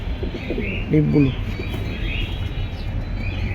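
Pigeons from a collection of pet birds for sale cooing briefly and softly, a short throaty call near the one-second mark under steady room noise and faint voices.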